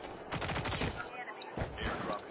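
Rapid gunfire in a shooting video game comes in two quick volleys of crackling shots at moderate-to-low loudness, with faint voices mixed in.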